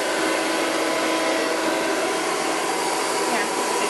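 A hair dryer running during a salon blowout, with steady loud broadband blowing that continues without a break from start to finish. No one speaks.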